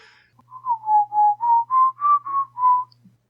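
A person whistles a short run of about eight clear, sustained tones, each held briefly, with the pitch rising slightly before settling, close and alone with no talk.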